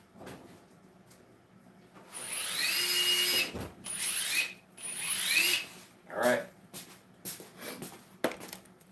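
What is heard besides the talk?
Metabo HPT triple hammer running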